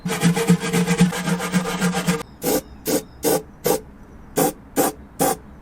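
Metal is scrubbed by hand before anti-rust primer is applied, first a continuous rapid rubbing rasp, then about eight separate short scraping strokes in an uneven rhythm, close and clear.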